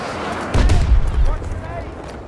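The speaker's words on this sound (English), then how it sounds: "Oh, deploying grenade!" Grenade blast in Battlefield 2042 Conquest gameplay, a sudden loud low boom that rumbles for about a second, then fades into a churning battle din.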